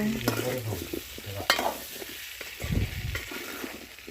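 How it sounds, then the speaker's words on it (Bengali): Sweet potato pieces stirred in a frying pan, a continuous sizzle broken by irregular scrapes and knocks of the utensil against the pan, heard up close with no voices. "আলুগুলো দেয়া হলো তারপর সবগুলো নাড়িয়ে দেয়া হচ্ছে"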